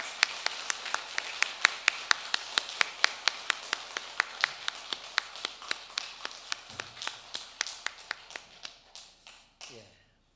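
A church congregation claps in unison during Sunday worship, a fast, even beat of sharp claps that gradually softens and slows before stopping near the end.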